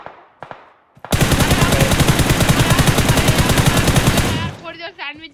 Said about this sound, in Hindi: अरे स्नाइपर चला रहा है